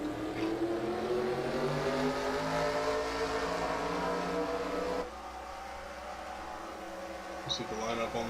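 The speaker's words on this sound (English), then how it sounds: "There's the command to start the engines and we're off and running" Engines of NASCAR Camping World trucks starting and revving in a racing simulation at Atlanta Motor Speedway, a buzzing layered drone that drops in level midway, with a voice talking over it.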